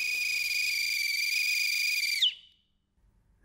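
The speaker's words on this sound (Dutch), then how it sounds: "Aha, hoor je dat gefluit, schat?" A single high, steady whistle is held for about two seconds in a Dutch cartoon. It slides down at the end and cuts off into near silence.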